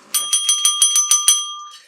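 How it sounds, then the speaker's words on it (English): A bright, ringing desk bell is struck eight times in quick, even succession, each ding loud and close with a sustained metallic ring that fades after the last strike. "I think it deserves a happy bell like this."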